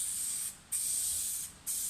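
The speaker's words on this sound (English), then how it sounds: "So first of all, I'm going to spray glue this stuff." Spray glue hisses from an aerosol can onto a laminate worktop for a campervan in three steady bursts with short pauses between them, close and alone.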